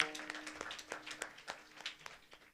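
Scattered handclaps ring out in honor of villagers and bhajan singers at a devotional kirtan gathering, uneven and fairly faint, with irregular sharp hits spread across a couple of seconds.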